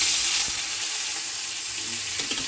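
Fish frying in a wok (kadai) set on the stove beside a second pan meant for potatoes gives a steady, loud hiss of sizzling oil with a few faint clinks, no talking.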